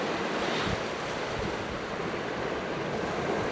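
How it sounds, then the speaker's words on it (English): Surf rushing onto a beach on an incoming tide during sea fishing for plaice, a steady broadband wash of waves with wind buffeting the microphone, loud and continuous with no talk. "the tide's ripping in, absolutely ripping in."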